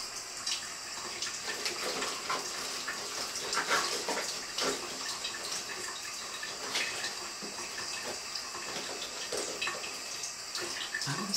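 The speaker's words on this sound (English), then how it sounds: "Just let the water run for how long?" Tap water runs steadily and close up in a bathroom, a continuous splashing stream with no talk over it.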